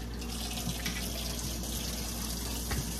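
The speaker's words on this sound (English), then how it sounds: "Let me wash my hands again." Hands are washed under running tap water in a home kitchen sink, a steady close rush of water with small splashes and shifts as the hands move through the stream, with no speech.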